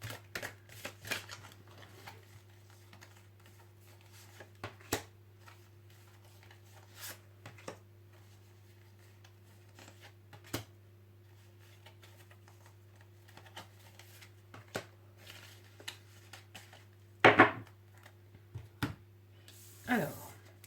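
Oracle cards being shuffled by hand, soft scattered flicks and taps in short bursts, quiet and close over a steady low hum, with brief louder riffles near the end.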